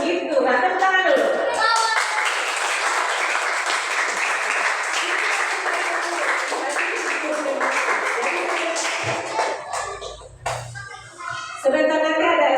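Schoolchildren clapping together in a classroom, a sustained burst of rapid hand claps lasting about nine seconds, followed by shuffling and voices.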